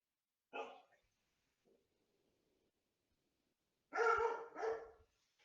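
A dog barks once, then after a pause gives a quick pair of close, loud barks, with quiet room background between them.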